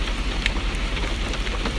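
Rain falling outside all day, a steady, even hiss of drops with a few faint distinct taps, heard alone without voices.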